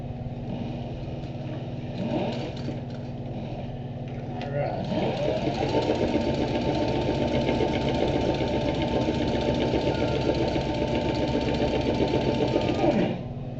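A sewing machine stitching leather starts up and runs in a steady, fast mechanical whir for several seconds, then stops; a few softer sounds come before it begins.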